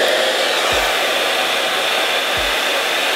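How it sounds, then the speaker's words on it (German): A hair dryer blows steadily and loudly close by while drying hair during wet-look styling, a continuous rushing whoosh with two brief low thumps. "Und dann föhne ich das Ganze nochmal, bis es ganz trocken ist."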